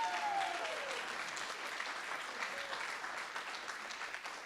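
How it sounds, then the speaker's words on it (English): Audience applause at the 2017 National Teachers Hall of Fame induction ceremony: a steady, soft wash of many hands clapping that holds evenly throughout, heard from some distance in a large hall. "Okay, they applaud anyway."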